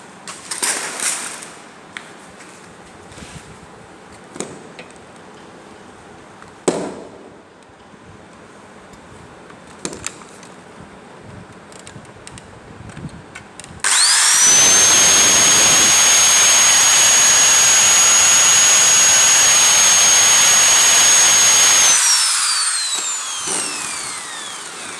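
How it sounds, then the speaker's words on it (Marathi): A power drill boring through galvanized iron sheet metal for a dust pan in a workshop, a loud steady high whine running for several seconds and then winding down, preceded by faint clinks and handling noises. "परत ड्रिलिंग करू."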